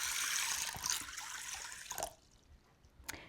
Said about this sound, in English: So I will cover them with water.